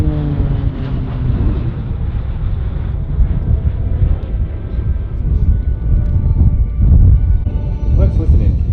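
Two Pilatus PC-9A propeller aircraft of the Roulettes display team pass at an airshow, one flying inverted above the other, giving a loud, continuous engine roar mixed with wind rumble. A voice speaks over it.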